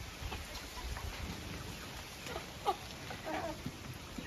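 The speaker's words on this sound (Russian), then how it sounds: "пошел дождь" Steady rain falling on a farm where turkeys and other poultry are kept, a soft continuous hiss with a few sharper drop hits, heard alone and fairly faint.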